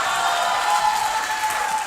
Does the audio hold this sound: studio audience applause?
yes